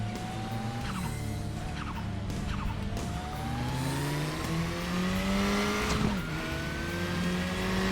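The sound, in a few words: KTM X-Bow turbo engine in the video game Raceroom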